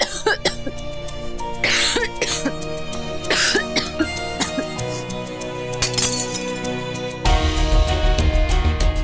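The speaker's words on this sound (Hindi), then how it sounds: "खांसना बंद करो प्लीज" Repeated coughing and throat clearing, close and fairly loud, over a busy backdrop of music and clinking, with a deeper rumble arriving near the end.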